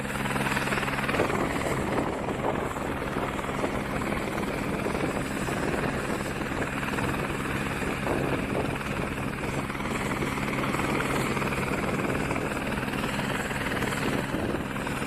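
A helicopter's rotor thumps steadily and loudly throughout, a constant droning beat that stays close, with no speech.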